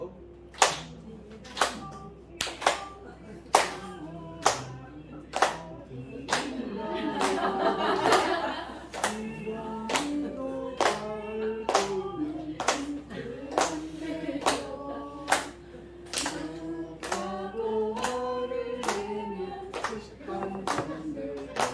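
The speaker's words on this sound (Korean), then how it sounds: "박수 치면서" A group of hands claps along in a steady, evenly spaced rhythm to a song during a teachers' training session. Sharp, bright claps sound over singing or music, with a brief burst of noise partway through.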